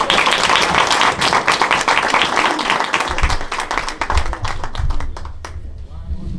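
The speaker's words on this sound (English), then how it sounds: "Let's give her a round of applause." An audience at a historical society's 50th anniversary celebration breaks into loud, sustained applause, dense clapping from many hands that thins and fades out toward the end, with some voices mixed in.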